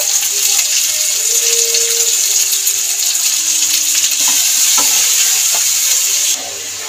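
Ground cumin, turmeric and Kashmiri chilli powder sauté in a pan for a vegetarian matar paneer, giving a loud, continuous sizzle with occasional scraping stirs and faint tonal background notes, and the sizzle drops sharply just before the end.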